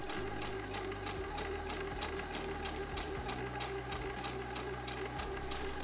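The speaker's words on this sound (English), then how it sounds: "I begin sewing the darts from the notches, and then I back tag to secure the stitches in place." A domestic sewing machine stitches darts in T-shirt fabric, running in a fast, close, steady rattling hum with brief pauses and changes of pace as it reverses to back tack, no voices.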